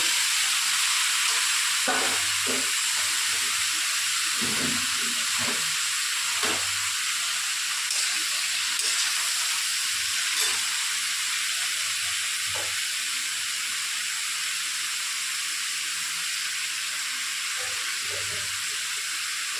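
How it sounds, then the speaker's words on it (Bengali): Food frying in a pan for a Bengali chicken dish, cooked until browned, giving a steady bright sizzle and hiss throughout, with occasional soft stirring knocks in the background. "এসবটা লাল লাল করে একদম সুন্দর করে ভেজে নেবো"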